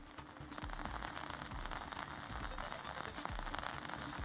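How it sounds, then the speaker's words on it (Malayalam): Heavy rain falls in Thrissur during a day of strong monsoon downpours, a faint but continuous patter and hiss of drops on surfaces, with nobody speaking. "തൃശ്ശൂരിൽ ശക്തമായ മഴ ഇപ്പോഴും തുടരുകയാണ്"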